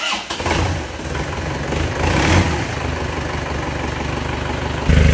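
Isuzu Panther diesel engine with cast cylinder liners and a badly leaking flexible exhaust pipe, idling close up with a steady rough rumble; the engine note rises briefly near the end.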